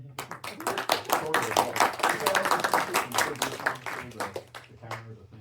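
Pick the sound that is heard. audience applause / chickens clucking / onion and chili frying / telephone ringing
audience applause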